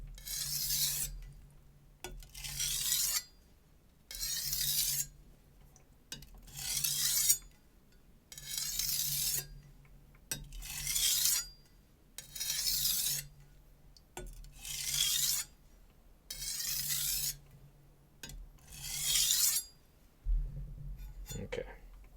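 A Zwilling Pro chef knife is drawn across a whetstone in about ten separate rasping strokes with short pauses between them, each a close, steady scrape, with no talk over them.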